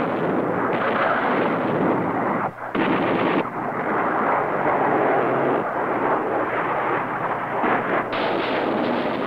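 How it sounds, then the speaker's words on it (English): Continuous military artillery and aerial bombardment with rockets, missiles, bombs and cannon, heard as a loud, dense, rumbling barrage of overlapping blasts that roars on with only a brief dip partway through. "the concentrated firepower of rockets, missiles, bombs, and cannon reinforces that of rifles, machine guns, mortars, and grenades to defeat the enemy"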